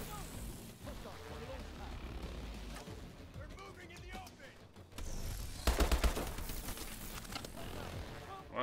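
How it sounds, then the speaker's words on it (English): Distant bursts of enemy gunfire in Call of Duty: Advanced Warfare, scattered rattling shots under a steady battle rumble, with one louder volley near the middle of the clip. "But apparently there's people shooting at me."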